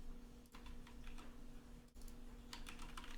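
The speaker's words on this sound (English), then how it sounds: "Let's type in concerts." Rapid clicking of computer keyboard typing, close and fairly quiet, in quick bursts with brief pauses, no talking.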